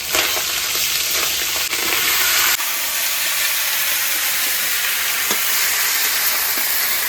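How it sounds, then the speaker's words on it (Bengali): Black cumin seeds sizzling in hot oil in a pan for tempering, after fish heads were fried, giving a loud, steady close-up hiss with a few clicks of a utensil, no voices. "আর ফোড়নে দিচ্ছি কালো জিরে"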